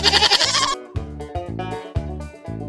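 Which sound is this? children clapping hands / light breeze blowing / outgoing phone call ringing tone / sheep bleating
sheep bleating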